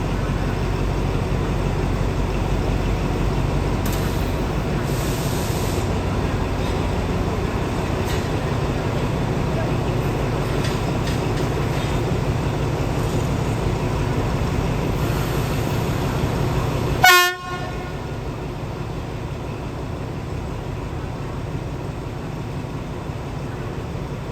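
Alsthom diesel locomotive 4222 of Thailand's SRT shunting with train 167, a steady loud engine rumble throughout, with a sharp metallic clank near the end before the drone settles slightly lower.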